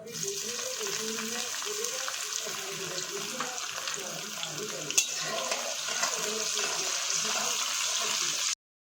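Cumin seeds crackle in hot peanut oil as a tempering for a dry potato dish, a continuous close sizzle with fine popping throughout.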